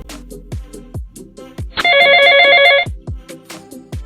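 A phone call rings out as a single bright, buzzing ring of about one second, set between sharp knocks and rustling.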